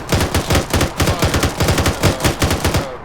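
Sustained automatic gunfire from troops in a military video game, a loud, steady stream of rapid bursts pulsing several times a second for the whole stretch, with no talk over it.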